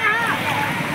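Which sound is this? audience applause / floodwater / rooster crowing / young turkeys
floodwater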